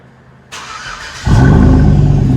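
Chevy Avalanche 5.3L V8 firing up through an exhaust with a 6-inch tip: a brief crank, then a rising deep rumble settling into a loud, close idle with no talking.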